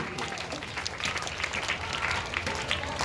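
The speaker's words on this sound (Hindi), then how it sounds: "एक बार जोरदार तालियां बजाते हैं आप सभी बच्चे।" Children applaud together at a school ceremony, a dense, continuous burst of clapping that fills the whole stretch at an even level.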